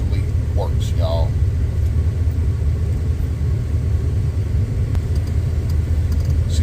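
A two-door Chevrolet Tahoe with an LS engine swap and four-wheel drive drives through a snowstorm, its steady low engine rumble and road noise continuous, with a brief voice early on.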